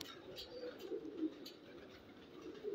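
Low pigeon coos roll on steadily at a fancier's pigeon loft, fairly close and moderately loud, with faint voices in the background.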